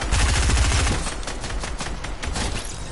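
Rapid automatic gunfire in a video game, a loud close burst of quick shots at the start that trails off into sparser, softer reports.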